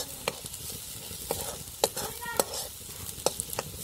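Masala for sev bhaji is stirred and fried in a pan: sharp, irregular spoon scrapes against the pan over a soft, steady sizzle of oil, close and clear with no voices.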